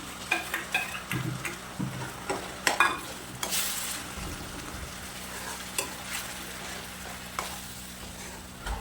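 Onions fry in a pan of oil while tomato gravy is stirred in for pav bhaji, giving a steady soft sizzle under repeated scraping, clanking spoon strokes, close and fairly quiet.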